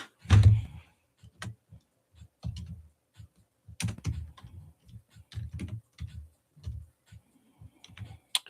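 Typing on a computer keyboard during NBA play-by-play commentary of a Thunder at Spurs playoff game, heard as irregular bursts of close, crisp key clicks with short pauses between them and no talking.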